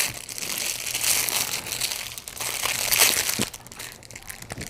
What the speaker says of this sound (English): Let's unwrap the remote.